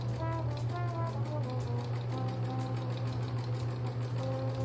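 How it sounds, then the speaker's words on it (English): Sewing machine stitching around quilt fabric turned right sides together, a close, steady mechanical whir with a strong low hum and rapid needle ticking running unbroken throughout. "flipping the fabric right sides together and sewing around it"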